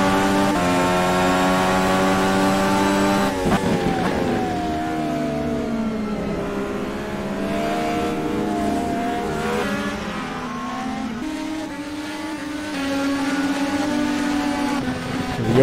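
Indy race car engines from a racing video game, several whining and revving together at close range, shifting pitch as cars accelerate and brake on the Cleveland street course, loud and continuous with no talking.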